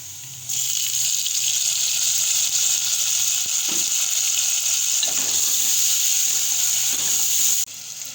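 Tomatoes hit a hot pan with cumin while cooking baingan ka bhurta, setting off a loud, steady sizzle and hiss that continues for several seconds before cutting back down.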